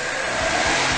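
A car engine revs hard as the driver accelerates, a loud, steady mid-pitched roar swelling slightly over about a second, heard up close with no talk.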